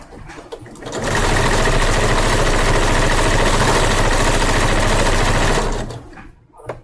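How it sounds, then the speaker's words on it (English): A sewing machine stitching fabric, running loud and close in one steady fast rattling burst of about five seconds, starting and stopping sharply, with no talk during the run. "I hate sewing this fabric."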